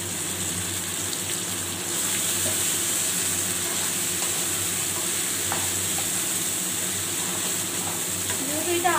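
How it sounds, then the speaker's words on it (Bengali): Poppy seed paste mixed with water is added to potatoes already frying in a pan for aloo posto, and the steady oil sizzle grows louder after it goes in, with stirring and a brief clatter near the end. "আলুটা কিন্তু ভাজা হয়ে গেছে, এবার আমি পোস্ত বাটাটাকে দিয়ে দিলাম"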